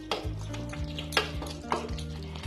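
A spoon stirs boiled cauliflower and potato curry in a pot, with repeated scraping strokes and light clinks against the metal close by, and no voices.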